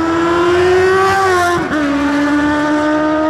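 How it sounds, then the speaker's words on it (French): A high-revving four-cylinder Honda Hornet motorcycle engine screams steadily above 8000 rpm, its pitch holding high with a brief dip and recovery midway. "Le moteur dégonflé ne s'exprime qu'à partir de 8000 tours dans une symphonie de 4 cylindres"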